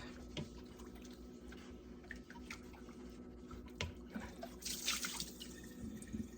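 Hot water runs from a tap for soaking dishes during a comparison of dish cleaners, a steady, fairly quiet splashing stream with faint drips and no talk.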